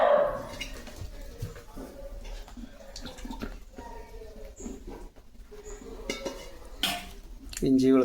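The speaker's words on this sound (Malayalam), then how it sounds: "അതും വറുത്തരച്ചത്, ചെറിയ ഉള്ളി, എല്ലാം കൂടെ നല്ലോണം മിക്സ് ചെയ്യുക" Chicken being mixed in a pot with ginger garlic paste, crushed shallots and a roasted ground spice paste for chicken curry: irregular scraping, clattering and squelching from stirring, louder toward the end.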